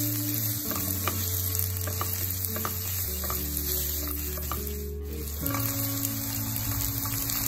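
Sliced onions fry in hot oil for a fish molee base, a continuous close sizzle with light crackles and occasional stirring, accompanied by a low steady background hum.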